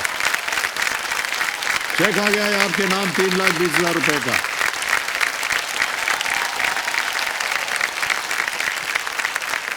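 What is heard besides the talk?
studio audience applause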